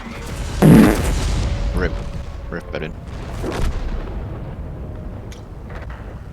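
Artillery fire in the video game Frontline: one heavy, close boom lands early and is followed by a low rumbling wash, while players talk over the battle noise.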